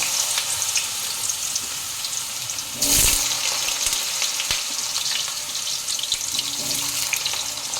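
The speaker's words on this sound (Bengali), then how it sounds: "আমি কেটে নিয়েছি এরকম ডুমো ডুমো করে আলু, এগুলোকে আমি ভেজে নেব" Diced potatoes frying in oil in a wok, a close, steady crackling sizzle with a brief louder burst near the start as they hit or are tossed, continuing evenly after.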